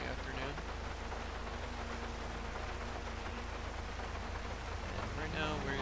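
Steady rain falls in GTA V with the LSPDFR police mod, set in the afternoon in the Morningwood area. It is a continuous even hiss at low level with no breaks, and faint tonal game sound sits underneath.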